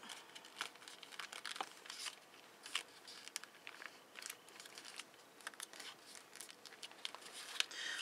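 Paper is folded into an origami star, giving soft, close crinkles and crisp creasing snaps in irregular bursts against near silence.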